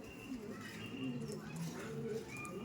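Pigeons in a loft coo softly in steady, overlapping low rolling calls, faint and continuous with a few light chirps above, and a voice murmurs indistinctly in the background.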